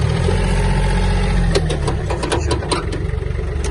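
A Yanmar AF-24 Japanese mini tractor drives in rear-wheel drive, its diesel engine chugging steadily at close range, with a few sharp rattling clicks and knocks midway.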